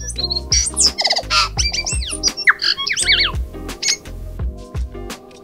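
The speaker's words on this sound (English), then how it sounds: "if you're lucky like us, you might hear a tui bird" A tui bird calls nearby, a busy, chattering mix of squawks, clicks, twangy whistles and rapid chirps, loud and continuous.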